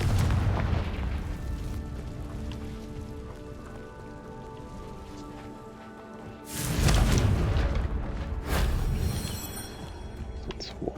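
Confringo fire spell explosions in the video game Hogwarts Legacy: a rumbling, crackling ambience broken by two loud, deep bursts in close succession, each followed by a crackling debris tail.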